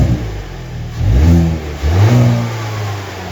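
A Hyundai N car engine, fitted with hybrid torque mount bushings, revs up twice in quick succession from a low idle, each rise loud and near with a throaty climbing tone before dropping back.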